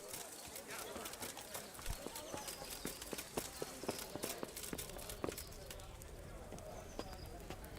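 Horse hooves clip-clopping in Kingdom Come: Deliverance, an irregular run of sharp hoof strikes over a background of ambient game sound and birds, fairly faint and with speech present.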